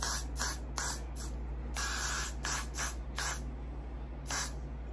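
Hairspray hissing from an aerosol can onto styled hair in a series of short, close, loud bursts separated by brief pauses, with a steady low hum underneath.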